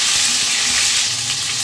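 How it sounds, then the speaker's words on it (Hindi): Tomatoes fry with cumin and coriander in a pan for sabudana khichdi, making a loud, close, unbroken sizzle with light stirring scrapes and no voices. "सिर्फ टमाटर ही डालना है और टमाटर को थोड़ा सा भून लेंगे"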